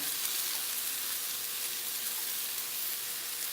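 Mushrooms hitting a hot pan of roasting cauliflower sizzle with a steady, bright hiss that stays even and moderately quiet throughout, with no voices.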